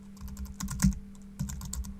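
Quick taps on a computer keyboard come in two short bursts of clicking keystrokes, close up and clear, with no one speaking.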